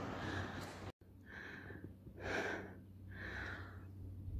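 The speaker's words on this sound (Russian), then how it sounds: "Ой, дышу, не могу отдышаться." Heavy, labored breathing of a woman just after climbing 450 steps up through a tunnel to the Njegoš mausoleum in Montenegro, three or four loud gasping breaths in a slow rhythm, close to the microphone.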